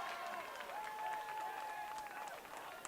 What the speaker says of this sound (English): Randolph-Macon going to cheer for that one.